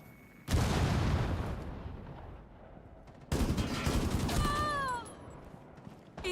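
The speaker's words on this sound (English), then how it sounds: "Throwing frag grenade." Frag grenade explosions in the mobile shooter Rainbow Six Mobile, two loud sharp blasts a few seconds apart, each trailing off in rumbling debris, with a whistling tone after the second.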